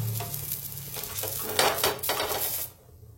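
Besan flour thalipeeth roasting and sizzling in a hot pan, a steady close frying crackle with scraping and stirring noises, swelling in the middle and cutting off near the end.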